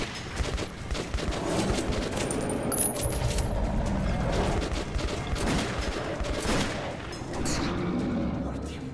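Shots ring out against mutants in Metro 2033 Redux, a run of loud close gunfire bursts with echoing booms and the tinkle of falling casings, spread across the whole stretch.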